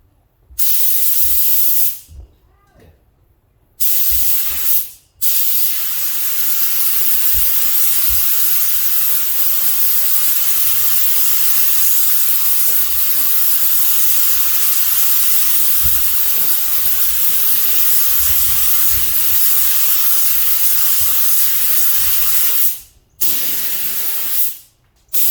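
Spray gun laying down a first coat of matte clearcoat over fresh base coat, a steady loud hiss that runs nearly unbroken for about twenty seconds, with brief pauses near the start and end.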